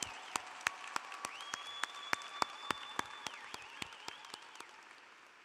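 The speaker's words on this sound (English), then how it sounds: "Put your hands together and give the graduates a round of applause" Commencement crowd at Medgar Evers College applauding the graduates, a broad steady patter of clapping with a few loud, regularly spaced claps nearby and faint cheering, slowly fading over five seconds.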